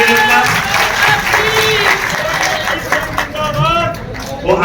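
A rally crowd claps to welcome a Lok Sabha candidate, loud sustained applause mixed with crowd noise while a voice carries over it.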